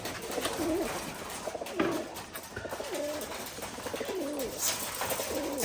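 Pigeons coo repeatedly at a pigeon sale, their soft rolling calls rising and falling in overlapping phrases close by, with a steady background murmur.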